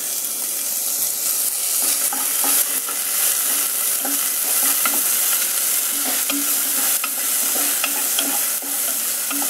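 Onions and tomato fry in a pan for a chickpea masala curry, a continuous close sizzle broken by repeated scraping stirs, with no talking.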